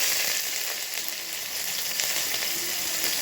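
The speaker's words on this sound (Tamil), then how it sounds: "இது கொஞ்சம் ஃப்ரை ஆன உடனே பெரிய வெங்காயத்தை போட்டுக்கோங்க." Large onions frying in a pan of oil with chillies and bay leaves for capsicum biryani, giving a steady, dense sizzle that runs without a break throughout and stays fairly close.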